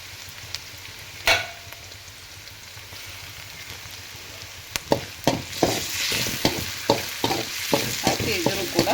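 Puffed rice (mandakki) for usuli fries and sizzles in hot oil in a pan, with a steady hiss broken by a series of sharp, evenly spaced scraping stirs of a spoon that grow more frequent toward the end; no one speaks.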